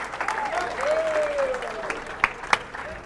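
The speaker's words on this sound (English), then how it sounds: "Keep it going for David Pfeiffer. Come on, let me hear you." A comedy club audience claps and cheers for a stand-up comedian at the end of his set, a steady wash of applause with a few sharp claps and whistles.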